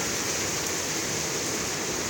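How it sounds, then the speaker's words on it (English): Heavy rain pouring down outdoors in Texas, a dense, steady hiss of downpour striking surfaces. The sound is loud and unbroken, with no voices. "It's raining like crazy. It's coming down hard"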